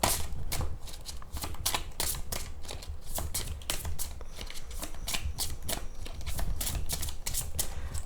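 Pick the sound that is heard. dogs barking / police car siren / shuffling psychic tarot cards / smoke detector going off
shuffling psychic tarot cards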